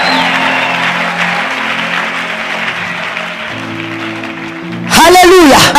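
Church congregation at a pastor's sermon gives sustained applause, a steady dense wash of clapping for several seconds before a loud voice abruptly breaks in at the end.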